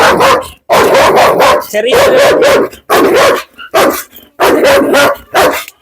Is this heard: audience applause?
no